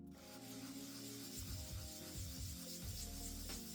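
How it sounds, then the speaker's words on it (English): A wooden pendant coated with CA glue is sanded by hand, a close, steady rasping rub with short back-and-forth strokes and no voices. "add another coat of CA on top of that, let it dry, and then sand it down so that all of those holes are filled"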